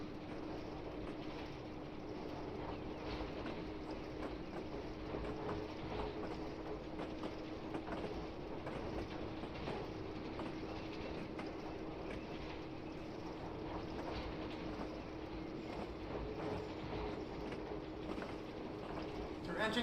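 A steam locomotive drifts on the Falmouth Branch toward the dockyard, its running gear clattering in a steady rhythmic murmur under a constant low hum, moderately near with no voices.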